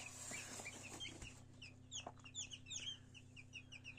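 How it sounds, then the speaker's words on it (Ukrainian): Many newly hatched chicks peep in high, rapid chirps inside an incubator, clustered together over a faint steady electrical hum, quiet and close. "чую, курчатка піщать"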